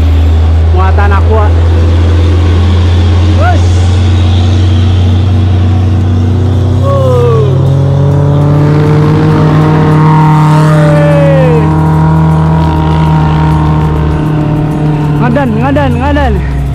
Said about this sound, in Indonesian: Tuh, mobil aja ngeden